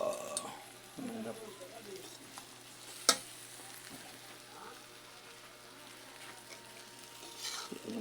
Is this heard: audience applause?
no